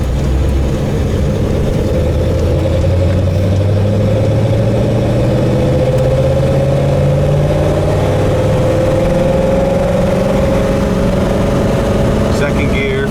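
A 1948 Ford Super Deluxe drives steadily with a loud, continuous engine drone. Its pitch climbs and shifts as the gears change, and a voice talks over it throughout.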